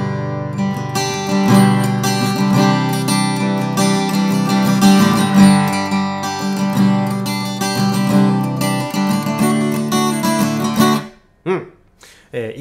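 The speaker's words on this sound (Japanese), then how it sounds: "シールドとか何も繋がらずに生音の状態でございます。 これでまあ、ツルツルっとなんかコードを鳴らしてみましょうか。" Chords on a LAG THV30ACE acoustic guitar ring out, strummed steadily and sounding dry and unamplified with no cable connected, before the playing stops and a few quieter sounds follow.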